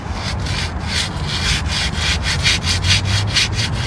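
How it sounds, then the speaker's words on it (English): Sandpaper rubbed by hand across the ridged rubber of a tire in quick, steady back-and-forth strokes, about ten rasping passes in a few seconds, close and fairly loud with no voices. "I noticed there was a problem with my tires the other day. These ridges look really dangerous, so I just grabbed some sandpaper."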